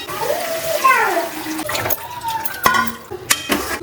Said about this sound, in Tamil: நம்ம கரைச்சி வச்ச புளியை சேர்த்துக்கலாம்